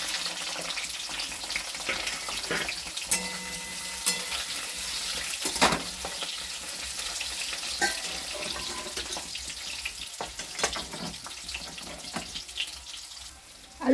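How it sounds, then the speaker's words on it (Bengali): Potato pieces frying in hot oil in a pan, a continuous bright sizzle with crackles and a few scraping stirs, steady and close throughout with no talking. "আলুটা ভাজা হতে হতে মশলাটা করে নিলাম"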